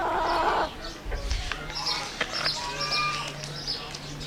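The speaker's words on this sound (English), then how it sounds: "It's great to see some of the birds here like this." Chickens and other fowl clucking at a farm animal sanctuary, several close, brief calls scattered over steady outdoor background noise, with some bumping sounds early on.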